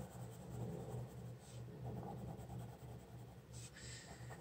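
A colored pencil scratches across foam paper in faint, soft strokes with a continuous dry rasp and a few short brighter scrapes.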